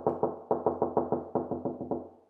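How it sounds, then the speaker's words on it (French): Someone knocks on a door in a quick, steady run of about a dozen firm raps. The knocks are close and fairly loud, with no voices. "Y a quelqu'un qui toquait à la porte là."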